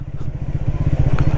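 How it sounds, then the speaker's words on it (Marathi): A vehicle descends a mountain road in gear with the clutch fully released, its engine braking in a steady, close, throbbing low rumble with a rapid pulsing beat throughout. "बघा मी क्लच पूर्ण सोडलेला आहे, इंजिन ब्रेकिंग करून मी सगळ्या गोष्टी करतोय."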